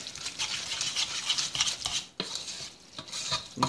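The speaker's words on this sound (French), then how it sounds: "On va brasser. Jusqu'à temps qu'il n'y ait plus de poudre et que les nouilles soient bien belles oranges." A utensil stirs noodles through Cheetos powder for mac and cheese, making close, rhythmic scraping and sticky swishing strokes, with a sharper knock against the pot partway through.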